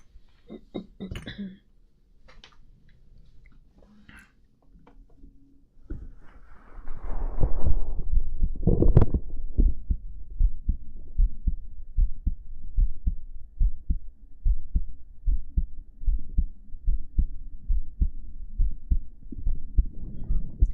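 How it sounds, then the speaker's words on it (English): Heartbeat sounds performed live on an ASMR stream come through as a steady run of soft, low thumps, close and rhythmic, starting quietly and growing louder and denser partway through, with no talking. "We're doing heartbeats now"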